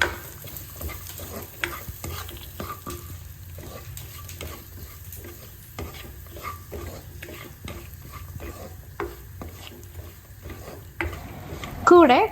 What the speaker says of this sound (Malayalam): ഞാനിപ്പം സെപ്പറേറ്റ് ആയിട്ട് നെയ്യിൽ വറുത്താണ് ഇട്ടേക്കുന്നത് കേട്ടോ